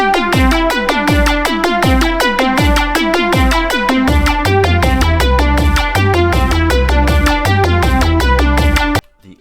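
The reworked main theme music from the video game Facility 42, with new drums, plays as a dense, driving track with punchy repeating drum hits under layered synths, then cuts off abruptly at the end.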